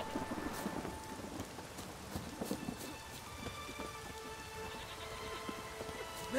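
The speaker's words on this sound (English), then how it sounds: "I love the rain." Steady rain in The Witcher 3: Wild Hunt patters over a soft ambient background, with a faint distant rumble and a few scattered drips throughout.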